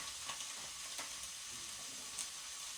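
Tripe stew sizzles and crackles steadily in a pan as onions go in without oil, a dense, even frying hiss with occasional small pops and no voices.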